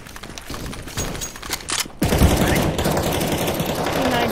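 P90 submachine gun fire in Counter-Strike: Global Offensive, a rapid sustained burst of game gunshots that turns denser and louder halfway through, with a voice faintly present.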